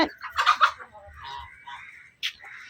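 A few short, scattered clucks and squawks from chickens nearby, with quiet gaps between them and a sharper call near the end.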